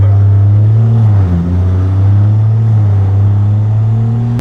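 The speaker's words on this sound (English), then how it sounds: "Literally vibrates everything in the cabin. Like, the drone is terrible." Deep, steady exhaust drone from a big-turbo BMW 340i while driving, a loud continuous low hum that dips slightly in pitch around the middle and then holds, with no talking.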